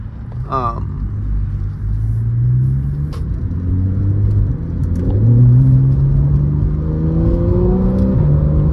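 A 2014 Porsche 911 S engine with the optional sports exhaust rumbles and revs, its deep exhaust note rising through several gear pulls, steady and close throughout.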